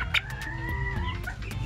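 Rhode Island Red and native chickens sharing one coop, with a close drawn-out crowing call and several short sharp clucks around it, loud and near.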